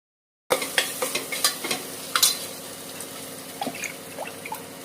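Tomato rice masala bubbling and sizzling in oil in an open pot, with close stirring scrapes and steady frying crackle throughout.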